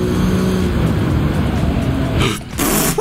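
A race car engine drones loud and close in Gran Turismo 7 on PS5, holding a steady roar before briefly dipping and surging back.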